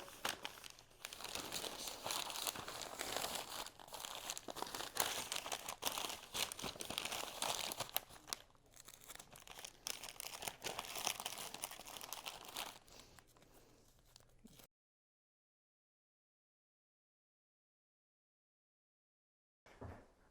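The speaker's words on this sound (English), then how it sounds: "put it on top of some paper, get 2 pieces of paper, and just wrap it up" Paper crinkling and crumpling as two sheets are wrapped around a picture, a busy, continuous rustle close by for about fifteen seconds before falling silent.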